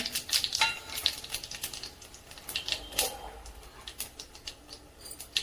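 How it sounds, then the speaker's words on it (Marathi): Peanuts, mustard seeds and cumin pop and crackle in hot oil as they fry, producing a dense, irregular patter of small sharp bursts at moderate volume. "शेंगदाणे चांगले परतून घ्यायचे"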